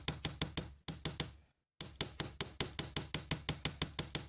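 A lighter-weight hammer taps twisted copper wire for a Celtic or Viking style brooch, a steady run of close, crisp metallic strikes about five per second, pausing briefly midway before resuming at the same even pace.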